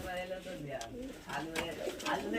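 A black pigeon coos repeatedly, soft rolling low calls close by, mixed with other pigeon sounds and partly under a speaking voice.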